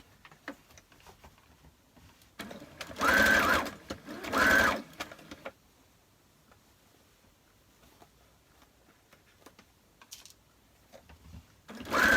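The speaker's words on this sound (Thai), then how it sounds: "ก็จะเย็บเลย" Sewing machine stitching fabric up close, running in two short bursts of rapid mechanical ticking with a pause between, then quiet handling clicks and another brief burst at the end.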